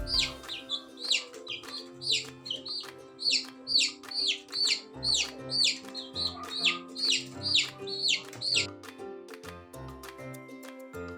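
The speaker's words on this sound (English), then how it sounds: "chick," Repeated high-pitched chick peeps from a farm animal sound set, a steady run of short chirps about every half second, close and clear over a low sustained musical backing.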